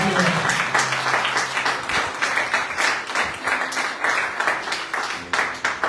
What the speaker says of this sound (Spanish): Denle ese aplauso.